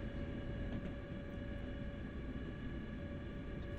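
A train runs past in the Train Sim World 2020 simulator on the Northeast Corridor near New York, heard as a quiet, steady rail drone with a constant hum and no changes.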